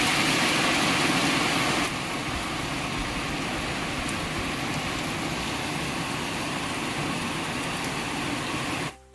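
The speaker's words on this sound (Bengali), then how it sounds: "বাইরে বিরাট জোরে বৃষ্টি চলে এসছে।" Heavy rain pours down outside, a dense, steady roaring wash that holds at an even, loud level for about nine seconds and then cuts off abruptly at the end.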